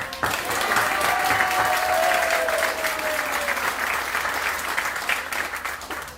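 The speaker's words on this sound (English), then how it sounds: "Let's clap and make them smile" A crowd at a student arts awards ceremony breaks into loud, dense, sustained applause lasting about six seconds, with a faint voice underneath.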